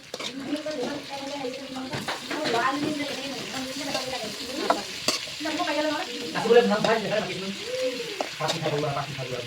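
Chicken fries on a low gas flame while being stirred in a pan, with a soft sizzle, repeated scraping and clinking of the utensil, and someone talking over the cooking.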